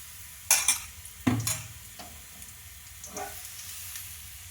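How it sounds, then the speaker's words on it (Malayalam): Appam batter hits a hot chatti, starting with a couple of sharp clatters and then a soft sizzle of cooking batter, close but fairly quiet, fading toward the end. "ഇത് ചട്ടി ചൂടായിരിക്കുന്ന അതിലേക്ക് നമ്മൾ അപ്പത്തിൻ്റെ മാവ്"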